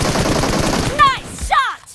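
Gunfire in the video game PUBG rattles out in a close, loud rapid burst of shots, then a couple of sharp ringing reports follow.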